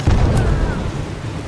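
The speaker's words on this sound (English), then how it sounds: "That was with the frag charge" A frag charge detonates in a video game with a loud, deep boom that rumbles and decays over about a second, close and dominant.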